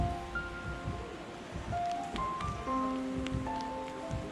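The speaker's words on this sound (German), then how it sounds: "Vorausgesetzt, es hört mal auf zu regnen." Rain falling outdoors in the Alps near the Oberalp Pass, a soft, steady patter with faint scattered drips and light tones underneath, low and even throughout.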